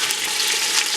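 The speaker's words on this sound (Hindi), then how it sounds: "इसको जिंजर गार्लिक के साथ तकरीबन थोड़ा सा इसको भूनूंगी" Meat sizzles steadily in hot oil with ginger garlic paste in a cooking pot, a loud continuous close-up frying hiss with faint stirring.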